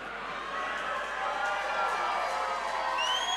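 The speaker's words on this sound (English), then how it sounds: "And as you can hear, the crowd's going a little bit nuts." The crowd at an MMA fight roars in a continuous wash of cheering and shouting that swells slightly toward the end, with a few whistles near the close.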